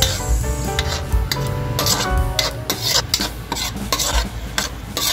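Sardines being stir-fried with ground pepper and fish sauce, before banana heart and squash go in. A loud, close run of rhythmic scraping stir strokes plays over a continuous sizzle, with no talking.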